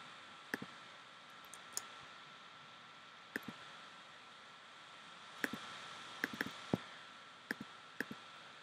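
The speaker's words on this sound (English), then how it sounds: "Maybe double click on that icon." A computer mouse clicks in sharp, quiet pairs and single taps scattered irregularly over a faint hiss, with no voice present.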